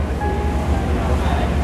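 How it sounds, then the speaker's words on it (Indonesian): Steady rumble of a ferry crossing the water in Hong Kong toward Central, with broad wind and wave wash throughout and a faint engine drone underneath. "Jadi ini kita naik ferry ya, guys."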